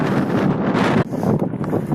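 Strong wind buffets the microphone during a fatbike ride through a gorge, a loud, roaring rush that dips briefly and then gusts on unevenly. No one speaks.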